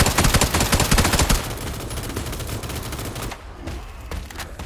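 An M249 machine gun firing in a battle royale video game, a loud rapid sustained burst close by that cuts off after about a second and a half, leaving a dense rumbling wash of in-game noise.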